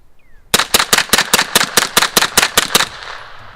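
A suppressed CZ Scorpion Evo pistol with a Dead Air Ghost M silencer fires a rapid string of about twelve subsonic reloads, sharp evenly spaced cracks, loud and close, trailing into a short fading echo.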